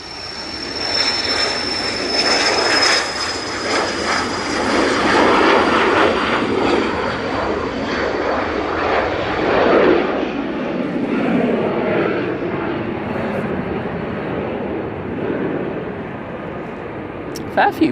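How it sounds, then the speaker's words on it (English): Cessna Citation business jet rolling for takeoff at Manchester Airport, a loud sustained engine roar with a thin high whine gradually fading as it moves away, no talk over it. "Cessna Citation on the roll now."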